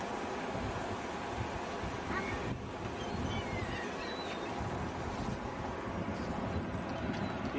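Steady ocean surf rolls in at Daytona Beach on a pleasant day, a continuous broad wash of breaking waves with wind buffeting the microphone throughout.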